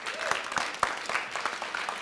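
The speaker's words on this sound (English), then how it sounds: "Give the speakers another round of applause." Short burst of audience applause for the speakers at an artists' congress, a dense patter of clapping with a few sharper individual claps standing out.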